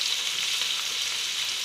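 Bitter gourd frying in a small pan, a steady close sizzle with faint stirring, unbroken and fairly loud, no talking.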